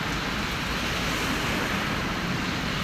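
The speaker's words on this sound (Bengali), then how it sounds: "এখানে বৃষ্টি হচ্ছে মুষলধারে।" Heavy rain pours down on a German city street during a morning with passing cars, trams and buses, making a dense, steady roar of water that stays constant throughout with no voices.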